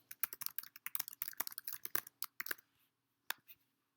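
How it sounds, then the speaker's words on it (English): Answers are typed into an online form on a computer keyboard, a quick run of close, crisp key clicks that thins out and stops, then a couple of final taps in a quiet room. "Then I'd start typing in the answers."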